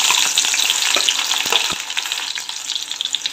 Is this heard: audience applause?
no